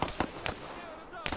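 Gunshots in an online multiplayer shooter, several sharp cracks at about 0.2, 0.5 and 1.3 seconds over a busy game background, a friendly player being hit before reloading.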